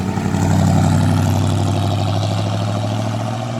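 A Chevy car engine, running well after months of repair work, holds a steady, loud, close low rumble with no pauses.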